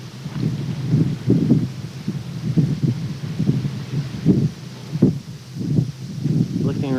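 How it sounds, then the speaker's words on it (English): Gusty desert wind buffeting outdoors near the painted desert, rumbling in uneven low pulses close to the microphone, with faint speech mixed in. "Wind blowing too."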